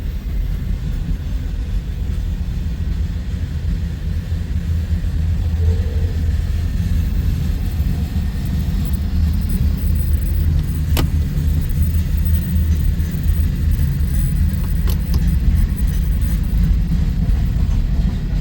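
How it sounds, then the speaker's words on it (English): Manifest freight train hauled by three locomotives on the Boone sub after a crew change, rolling past as a steady, loud low rumble with engine drone throughout and a couple of sharp metallic clanks near the end. "the 3 engines up front sure got this manifest up and moving"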